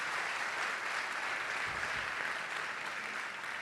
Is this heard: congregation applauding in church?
yes